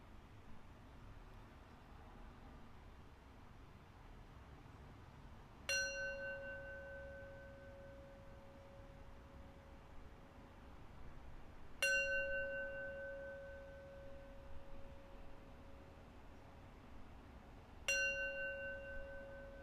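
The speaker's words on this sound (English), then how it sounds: "I'll close with 3 rings of the bell." A meditation bell rung three times at the close of a practice session, each strike a clear resonant ding with a long ringing decay, spaced about six seconds apart over a quiet background.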